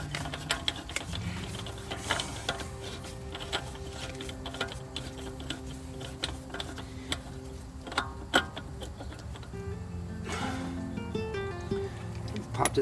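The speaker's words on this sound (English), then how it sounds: "now we're gonna tighten this up" A ratchet clicks steadily in rapid ticks while tightening a front knuckle part on an 80 Series Land Cruiser, close and continuous over a hum of background noise.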